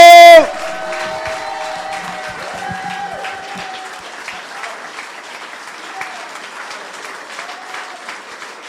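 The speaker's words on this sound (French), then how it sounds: "Acclame-le encore plus fort." A church congregation bursts into loud, sustained applause, with dense clapping filling the room throughout and a few voices mixed in underneath.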